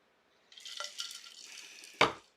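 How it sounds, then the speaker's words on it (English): Water splashes and rubs against hands, a soft wet swishing that builds for over a second before a sharper splash at the end, close and quiet with no talking. "I gotta put water on my hands again."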